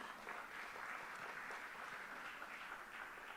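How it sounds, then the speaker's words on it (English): Steady applause from a live audience at an awards and talks event, dense continuous clapping at an even level with no voices on top. "So a big round of applause to Shiv Nadar Foundation."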